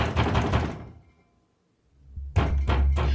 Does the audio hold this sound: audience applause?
no